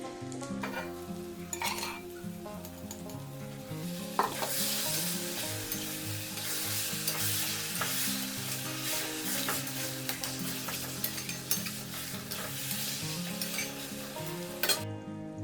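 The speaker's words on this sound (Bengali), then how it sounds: "এবার ভেজে রাখা আলুটা দিয়ে একটু কষে নেব এবার যে মোচাটা সিদ্ধ করে নিয়েছি এটা দিয়ে দেবো" Fried potato and boiled banana flower sizzle as they are sautéed in a pan, with occasional utensil clinks, while background music plays prominently over the cooking noise.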